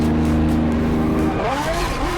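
Race car engine of a Mazda Furai in the racing game Asphalt 8+, loud and close, holding a steady high drone before sweeping upward through rising revs with a hint of tire squeal.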